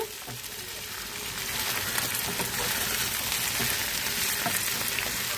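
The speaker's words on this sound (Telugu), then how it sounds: "ఒక రెండు స్పూన్లు అండి కారం చేప ముక్కలు పచ్చివాసన పోవాలి తిరిగేసుకుందాము చేప మొక్కల్ని" Fish pieces fry with chilli powder in a pan for fish curry, giving a steady sizzle that grows slightly louder after the first second, with faint scraping from turning the pieces.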